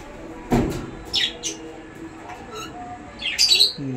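Budgerigars give a few sharp squawks and chirps at close range while being moved into a new cage, with brief knocks and bumps from the handling between the calls.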